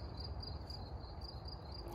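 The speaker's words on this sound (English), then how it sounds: "if you can hear those crickets in the background and the frogs" Crickets and frogs in an autumn garden: a faint, steady high-pitched chirring pulses continuously over a low background murmur, distant and unbroken.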